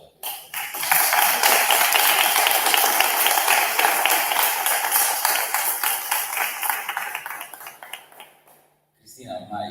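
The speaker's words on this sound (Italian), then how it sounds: "e con un applauso" An audience at a Cagliari book presentation applauds author Cristina Caboni. Steady, dense clapping rises quickly and holds for about eight seconds before cutting off into near silence.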